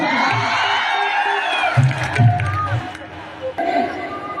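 A crowd at a political rally in Jehanabad cheers and claps: loud, continuous crowd noise with whoops and shouts, mixed with amplified talking throughout.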